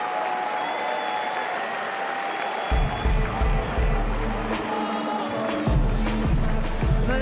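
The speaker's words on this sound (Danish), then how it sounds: "Så skal vi ikke lige give alene det et bifald" Muay Thai fight crowd bursting into applause after a quiet stretch, a dense wash of clapping and cheering that swells twice and stays loud to the end.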